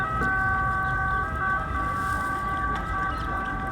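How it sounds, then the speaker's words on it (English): Sustained siren tones wail steadily over a busy street rumble of traffic in Rome, continuous and moderately loud, with no speech. "you can hear the music and the sirens"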